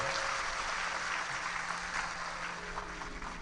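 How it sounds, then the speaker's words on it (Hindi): A live Hindu devotional gathering for a Shiv Mahapuran katha sends up steady, dense applause from a large crowd, sustained and even throughout with a faint background hum. "जोरदार ताली बजाओ।"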